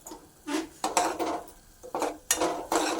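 Ginger garlic paste frying in a pan for rajma masala while being stirred: repeated scraping and clinking of a utensil against the pan in short bursts, fairly close, with no talking.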